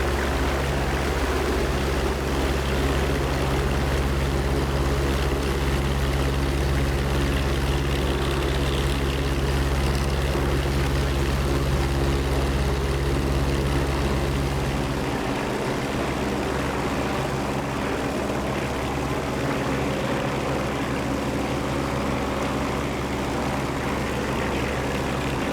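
A P-47D-30 Thunderbolt in the DCS World flight game, its propeller engine holding a loud, steady droning hum with a deep low rumble that shifts tone about halfway through.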